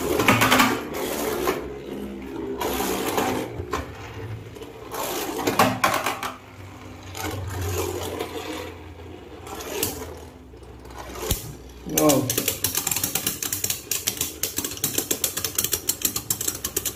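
Beyblade spinning tops are launched and battle in a stadium, producing whirring, grinding metallic rattles and sharp clacks of collisions that come and go, then a burst of fast ticking rattles near the end.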